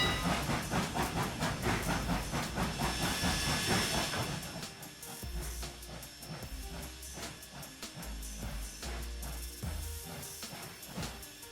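Steam locomotive in the Trainz 2019 railway simulator on the Brighton Branch, giving a loud, continuous hiss over mechanical rumble and clanking, with the hiss easing after a few seconds while steady low chugging and rail noise carry on.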